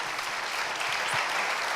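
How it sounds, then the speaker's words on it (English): Audience applause for a speaker at a 1 Million Cups entrepreneur event, a dense, even roar of many hands clapping, steady throughout and heard alone. "Let's give him a round of applause."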